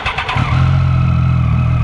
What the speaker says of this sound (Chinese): 那如果是开启引擎的话呢